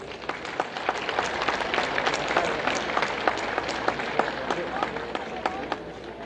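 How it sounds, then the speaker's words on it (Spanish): Sustained applause from a crowd at a school flag oath ceremony, many hands clapping in a dense, steady patter with a few sharper individual claps standing out, moderately close. "Un fuerte aplauso, por favor."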